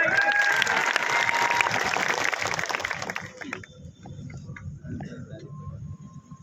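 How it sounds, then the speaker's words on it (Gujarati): Crowd at a tribal day speech breaking into loud applause that fades out after about three seconds, followed by quieter room noise and faint voices. "એવા હજારો કાર્યકર્તાઓ માટે એકવાર જોરદાર તાળીઓ થઈ જાય."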